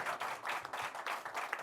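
Audience applause at a public debate on national security, a short burst of steady clapping from a modest crowd, fairly quiet and even throughout.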